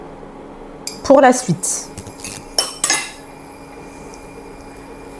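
A small fork scrapes and clinks against a dish while picking up a knob of butter, with a burst of metallic taps and scrapes in the middle and a brief spoken phrase.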